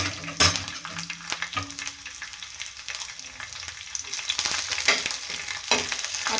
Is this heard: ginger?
yes